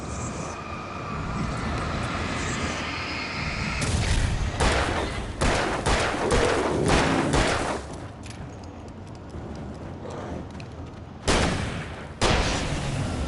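Bursts of gunfire from the Alan Wake video game, several rapid volleys and sharp shots clustered in the middle and again near the end, loud against a steady rumbling game background.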